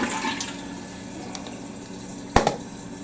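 A toilet being cleaned with apple cider vinegar flushes, water rushing and draining at moderate volume with a sharp gurgle and splash near the end.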